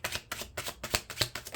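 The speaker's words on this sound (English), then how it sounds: "let's go into the last shuffle" Tarot cards riffle and slap together in quick, rhythmic bursts, close up and crisp, repeating about six times with no talking.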